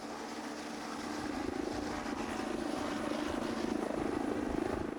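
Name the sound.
helicopter flying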